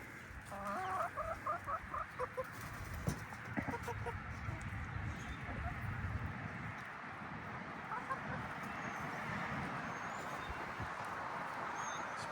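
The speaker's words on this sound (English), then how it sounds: "Pretty little rooster." Silkie chickens and a rooster cluck in a quick run of faint, distant calls early on, then quieter scattered clucks over steady outdoor background noise.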